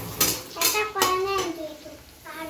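Dishes being washed by hand clink and clatter in a home kitchen, several sharp knocks of pots and utensils spaced apart, with voices talking over them.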